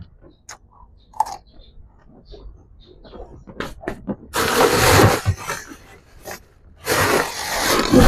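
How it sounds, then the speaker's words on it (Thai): Crunchy fresh jujube fruit chewed close to the mic, with loud, juicy crunching bites coming in bursts between quieter pauses and small mouth sounds. "ลูกพุทธานี่กรอบมาก"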